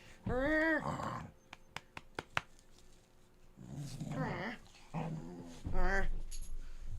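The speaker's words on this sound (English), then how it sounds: "Pardon my crazy dog." A dog growls and whimpers in several bursts, some whining tones rising and falling, close and fairly loud, with a few sharp clicks in between and no talk over it.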